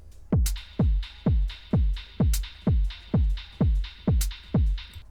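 Tech house drum loop with a punchy, booming kick on a steady four-on-the-floor pulse, open hi-hats hissing between the beats and occasional crisp closed hi-hats, looping evenly for about ten beats.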